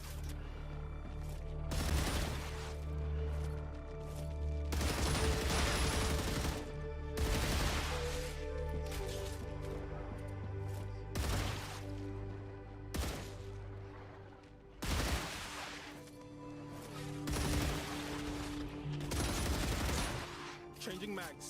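Repeated bursts of gunfire in the sci-fi shooter Star Rupture, sharp broadband blasts in clusters every couple of seconds over a steady low game drone, fairly loud and close.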